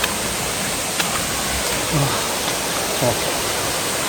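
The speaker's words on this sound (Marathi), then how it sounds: "पोचलो आहे समोरच आहे वॉटरफॉल." Kalote waterfall near Karjat, not yet at full flow, roars as a steady, close wash of rushing water throughout, with faint voices now and then.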